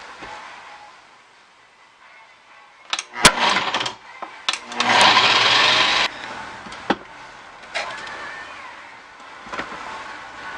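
A food processor ricing cauliflower gives a loud, harsh whirring burst in the middle, with scattered clunks and rattles around it and quieter handling noise at the start and end.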